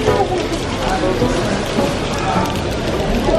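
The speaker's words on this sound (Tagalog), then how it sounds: "Biglang umuulan." Sudden rain falls in Bangkok at the Reclining Buddha temple, a steady broadband patter on surfaces throughout, loud and close, with faint voices and bustle mixed in beneath it.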